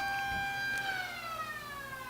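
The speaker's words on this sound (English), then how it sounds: "the siren goes off" A scoreboard siren at a high school playoff football game on a home field sounds after a touchdown, one steady wailing tone that slowly drops in pitch, loud against a crowd murmur.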